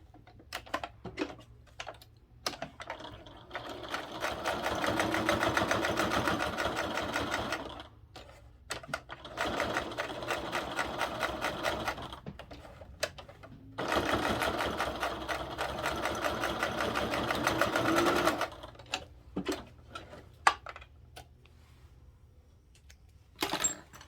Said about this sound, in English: Let's top stitch all the way around 1/8 of an inch